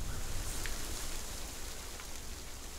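Steady rain hiss in the video game Hellblade: Senua's Sacrifice, broad and even throughout, with a faint occasional drip and no voices.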